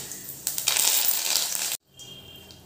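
Curry leaves dropped into hot oil in a kadhai, a loud burst of crackling sizzle lasting over a second, cutting off abruptly, then a quieter sizzle resumes.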